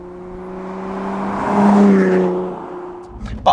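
A 2014 Lotus Evora S engine hums from inside the car while driving, the tone climbing to a louder, rising whine around the midpoint and then easing off, close and without talk.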